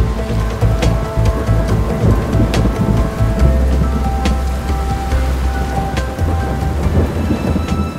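Heavy thunderstorm rain during a trip in the Cotentin, a dense, loud, continuous downpour with deep rolling thunder underneath and sharp drop impacts throughout.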